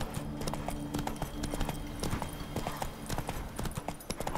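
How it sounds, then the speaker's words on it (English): Horse hooves clip-clop steadily in The Witcher 3 video game, a brisk continuous rhythm of close hoof strikes under a dense layer of other game sounds. "Spooking my horse. Roach doesn't like ghosts."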